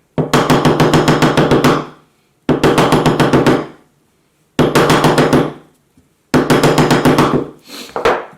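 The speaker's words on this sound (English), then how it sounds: "I'm just gonna start untraditionally and give it some hammering" Four bursts of rapid, loud hammering on fleece fabric, each lasting a couple of seconds, separated by short pauses.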